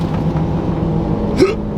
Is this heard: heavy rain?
no